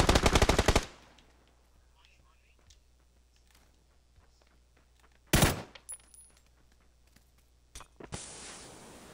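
A burst of rapid automatic gunfire in the Xbox game PUBG opens loudly, followed by quieter in-game movement, a sharp nearby shot or two and a voice speaking softly between them.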